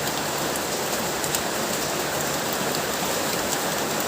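Steady, even rain falling, a continuous dense hiss of drops on surfaces with no pauses and no voices.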